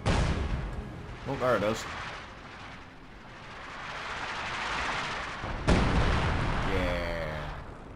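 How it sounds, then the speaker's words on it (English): Artillery fire in Company of Heroes 2: a few booming game explosions and a sharp blast near the middle, heard under a player's talk and game chatter. "Go, artillery, fire!"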